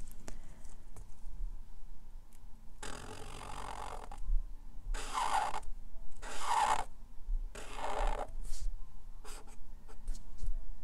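An Arteza Everblend art marker with a chisel tip colouring on paper, in several separate bursts of quick, soft scratchy strokes, close and quiet with gaps between.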